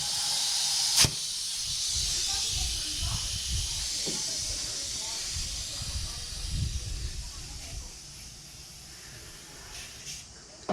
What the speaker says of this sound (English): Right away I can hear a leak.